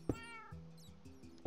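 A cat in the Minecraft video game meows in short repeated calls, with sharp clicks at the start and end, quiet and without speech.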